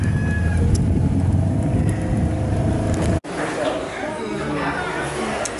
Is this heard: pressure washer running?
no